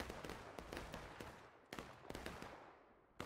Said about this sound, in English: that was a lot of firing I just heard